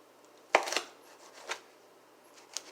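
A knife dices onions for a keto quiche, giving a few sharp, close chops at uneven intervals on a cutting board with quiet gaps between them.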